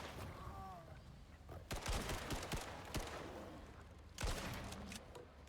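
Shotgun blasts in the video game Icarus, a few loud, sharp shots spaced apart amid background game noise, with a voice speaking briefly.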